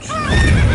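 A horse named Roach whinnies in The Witcher 3, a short close neigh with wavering pitch over low rumbling background sound.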